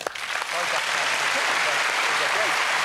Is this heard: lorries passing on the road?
no